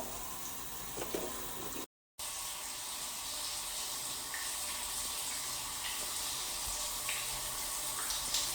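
Shower water runs steadily in a bathroom, a constant broadband spray with a brief cut near the start, alone with no talk.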